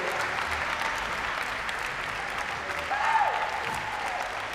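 Crowd applause fills a trampoline championship arena, a steady broad clapping wash that swells briefly near the end, with faint voices mixed in.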